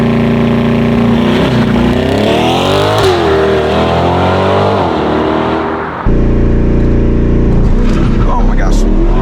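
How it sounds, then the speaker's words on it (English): A C8 Corvette launches hard under launch control in automatic mode, its engine roaring loud as revs climb through rising sweeps, a shift break, then pulling again, with voices over the noise. "Launch control in the C8 Corvette automatic mode"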